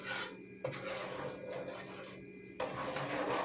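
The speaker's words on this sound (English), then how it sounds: "we're going to stir that very well. Mix it up good." Cocoa fudge mixture being stirred in a pot for Hershey's old-fashioned fudge, a steady scraping and rubbing of the spoon against the pot, close and continuous, with brief pauses in the motion and no talking.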